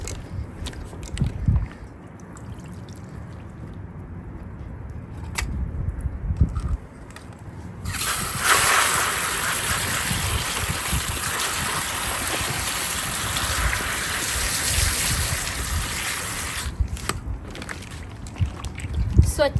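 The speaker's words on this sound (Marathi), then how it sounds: "स्वच्छ भाज्या धुतल्या." Fresh garden-harvested vegetables, including chillies, are rinsed in water in a home kitchen, a steady splashing and running-water wash lasting several seconds, with talking before and after.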